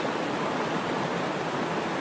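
A creek flows steadily nearby, its broadband rushing water holding an even level throughout with no voices.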